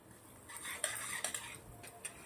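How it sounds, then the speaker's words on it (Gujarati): Semolina dry-roasting in a pan for halwa, with a spoon scraping and clinking against the metal in a few quiet, irregular strokes; no one speaks. "સોજી મસ્ત શેકાઈ રહી છે"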